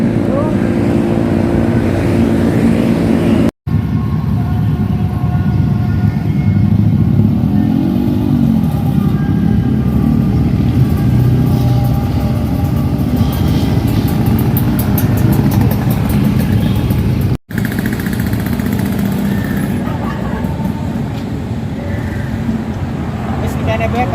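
Motorcycle engine idling and running steadily while being parked on a town street, a continuous low rumble under people chatting nearby throughout.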